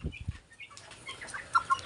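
A live 50-day-old male Mardi kampung broiler rooster is handled up close, with a few soft low thumps and rustles of feathers followed by faint, brief clucks.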